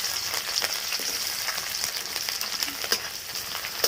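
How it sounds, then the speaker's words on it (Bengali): Chopped onion, cut into small square pieces, frying in hot oil in a kadai, giving a steady close sizzle and crackle with a few brief louder pops and no talking. "দিয়ে দিচ্ছি পেঁয়াজ কুচি।"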